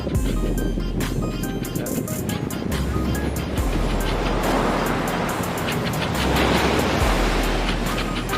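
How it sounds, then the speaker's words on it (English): Ocean waves roll onto Oahu's north shore in Hawaii with a loud, continuous surf roar and rushing swells throughout. "for now the waves are not so crazy here."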